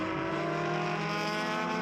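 A race car roars at the 2019 SCCA Runoffs in the E Production class, a loud, steady, high-revving exhaust note with dense harmonic buzz, sustained without pause and heard alone.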